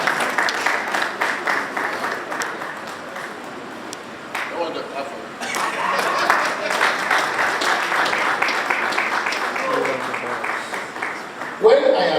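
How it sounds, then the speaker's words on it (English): An audience applauds the session chairman at the opening ceremony of a bar association branch's bar week, with steady, sustained clapping that swells near the end. "Please a round of applause for your brand man chairman."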